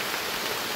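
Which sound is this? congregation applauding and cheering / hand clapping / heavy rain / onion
heavy rain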